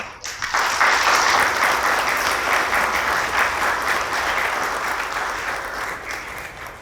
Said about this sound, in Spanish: quiero pedir un aplauso fuerte para ti